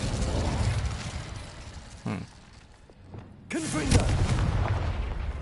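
An Incendio fire spell is cast in Hogwarts Legacy, a sudden burst followed by a louder, sustained flaring rush of flame over the game's background sound.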